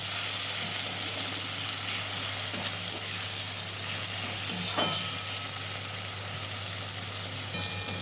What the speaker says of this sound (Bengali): এবার টমেটোটা দিয়ে দিলাম এবার ভালো করে নাড়াচাড়া করব যতক্ষণ না টমেটোটা একদম গলে যায়